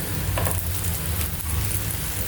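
A homemade tomato pancake (pola) sizzles steadily in a pan as it cooks on one side, a continuous close frying hiss with a low rumble underneath and no voices.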